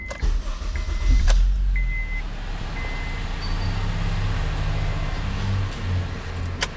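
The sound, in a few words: Honda starter motor cranking the engine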